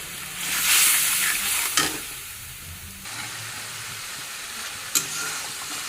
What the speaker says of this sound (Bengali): এর কি সুন্দর করে মশলাটা বেজে নিলাম